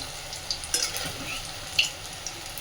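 Soya pakoras fry in hot oil with a soft, steady bubbling hiss and a few small pops, close and quiet over a short stretch.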